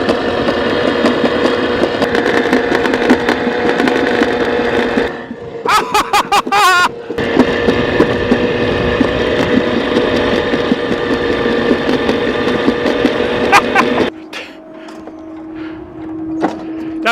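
A summer bobsled ride down a hill in Poland: a continuous loud rumbling roll of the sled on its track, with brief rattling bursts midway and a quieter slowing run at the end.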